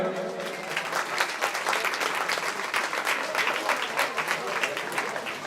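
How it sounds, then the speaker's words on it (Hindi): An audience at a Ramayan recitation event applauds loudly and continuously, with dense, fast claps filling the whole stretch, and a voice faintly beneath. "एक बार जोर से ताली हो जाए।"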